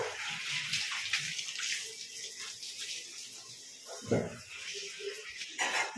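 Water running steadily while a dog is being bathed at home, a close, continuous splashing hiss with a brief heavier gush partway through.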